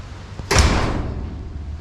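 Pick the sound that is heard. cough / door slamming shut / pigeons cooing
door slamming shut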